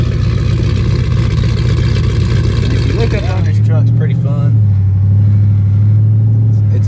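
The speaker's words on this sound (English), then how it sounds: "But this is the exhaust." A cammed LS 6.0 swapped Chevy Colorado truck with a flash tune idles with a loud, choppy exhaust burble, then revs briefly and settles back into a lumpy idle, while someone talks over it.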